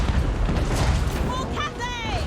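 Grand cannon fire from a Total War: Warhammer III battle booms as a heavy, sustained explosive rumble throughout, while a voice calls out over it near the end.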